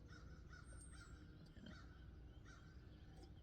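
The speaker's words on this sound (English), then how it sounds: "Ravens. We have them in this area." Ravens caw repeatedly outdoors, a few harsh calls scattered over a steady hiss of background noise, fairly faint and with no talking.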